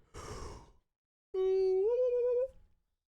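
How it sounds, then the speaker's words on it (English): A person exhales in a breathy rush, pauses, then lets out a long, drawn-out voiced yawn with a rising tone, close and fairly loud. "That's me yawning, by the way."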